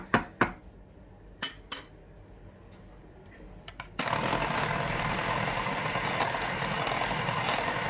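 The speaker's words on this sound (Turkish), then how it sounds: "Biraz mikserle çırpmak istiyorum bunu." An electric hand mixer starts up and whips a homemade ice cream mixture in a bowl, a steady loud whirring buzz after a few scattered clinks of dishes and utensils.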